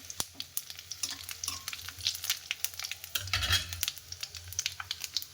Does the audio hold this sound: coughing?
no